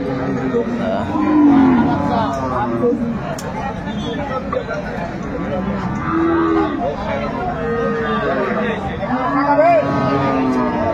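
A cow with her calf at Aftabganj cattle market moos in several long, loud, close bellows, with crowd chatter and livestock noise steady underneath.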